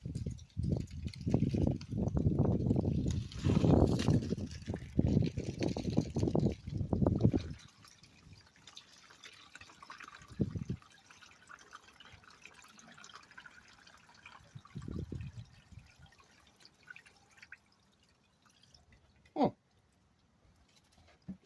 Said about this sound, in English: I'm going to pour my mix inside of here